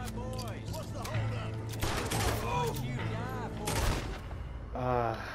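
Close shotgun blasts in a Red Dead Redemption 2 shootout, sharp and repeated, mixed with loud shouting voices and other gunfire.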